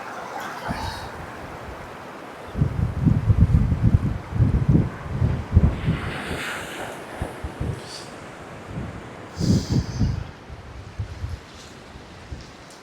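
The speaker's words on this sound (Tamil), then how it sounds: "மேலே வருது பாருங்க, தண்ணி வருது பாருங்க." Sea water surges up through rocks at Natural Bridge on Neil Island, coming as repeated rushing bursts of splashing wash over a low windy background, with a couple of close, heavier surges and quieter gaps between them.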